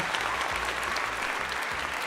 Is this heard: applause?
yes